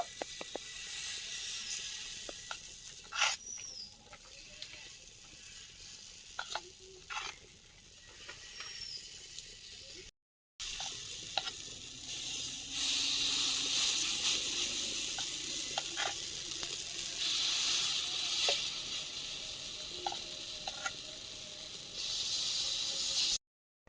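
Batasa pitha cakes fry in a pan of oil with a steady close hiss and sizzle, dotted with light clicks and clatters of a utensil, with one brief pause midway.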